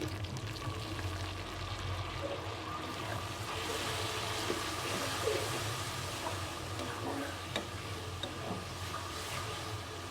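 Shrimp frying in a pan with salt, turmeric and chili, before beetroot goes in; a steady moderate sizzle with faint stirring clicks throughout, no talking.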